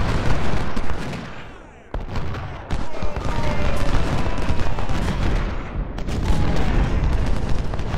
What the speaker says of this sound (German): Ja, die schießen sich hier gegenseitig alle tot.